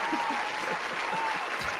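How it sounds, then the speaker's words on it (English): Applause from a live audience at a tabletop role-playing game show, a brief steady patter of clapping throughout, with some voices mixed in. "Appropriate applause."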